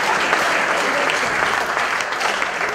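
Comedy show audience clapping for a comedian in Calabar, a dense, steady burst of applause from a crowd that fills the space evenly throughout.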